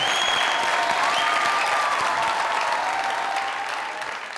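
Loud, dense applause from a studio audience at a Pakistani comedy talk show, steady for several seconds and tapering slightly at the end.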